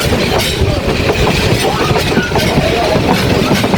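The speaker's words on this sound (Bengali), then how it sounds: "ট্রেনটা একে বেঁকে যাচ্ছে হেলিয়ে দুলিয়ে জগ জগ জগ জগ শব্দ করে" A passenger train runs on its tracks between Sylhet and Chittagong, heard up close from inside as a loud, continuous rumbling clatter of wheels with a steady rhythmic knocking, and no one speaking.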